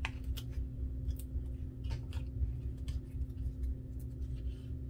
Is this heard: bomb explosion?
no